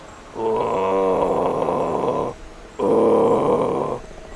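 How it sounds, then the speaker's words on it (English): Two long, deep, rasping calls like guttural snoring grunts, each lasting about two seconds with a short pause between, close and loud. "Have you heard a drop bear's call before? It sounds like this."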